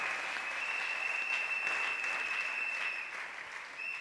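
A church congregation applauding together as a steady, dense wash of clapping that holds for several seconds and eases off slightly toward the end, heard at a moderate distance with no voices over it.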